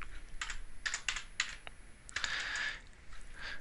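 Rapid typing on a computer keyboard, with bursts of close, crisp key clicks separated by short pauses, heard alone in a quiet room.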